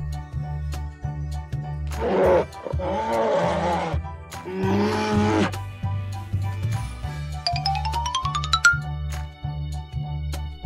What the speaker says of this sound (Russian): Медведь.